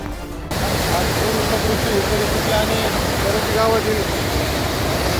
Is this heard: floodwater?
yes